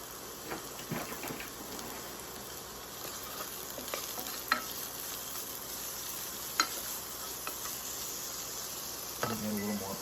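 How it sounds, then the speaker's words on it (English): Sliced garlic and onions frying slowly in oil, a steady close sizzle running throughout with occasional stirring clicks and scrapes, no talking. "garlic and the onion, and get that cooking for a while"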